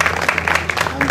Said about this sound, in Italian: Un applauso a Paolo Scarpelli.